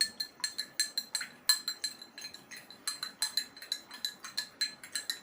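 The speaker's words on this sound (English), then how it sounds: "I have added salt to this and I'll stir it." A spoon stirs salt into water in a glass, ringing out as a quick, fairly even series of bright clinks against the glass, close and clear with no talking.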